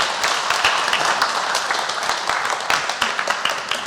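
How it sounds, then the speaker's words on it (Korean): A church congregation applauds, giving a steady, fairly loud wash of many hands clapping throughout with no voices over it. "서로가 서로에게 박수해 주시면 감사하겠습니다. 박수 치겠습니다."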